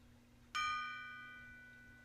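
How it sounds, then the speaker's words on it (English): A single gong strike in a relaxing sound bath blooms suddenly into a shimmering metallic tone that rings on and slowly fades, with no speech. "starting with the gong."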